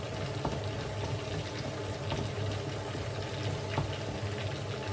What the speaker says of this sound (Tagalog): Pinapry ko muna siya sa mantika yung paa.